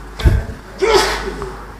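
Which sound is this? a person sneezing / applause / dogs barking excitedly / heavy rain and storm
a person sneezing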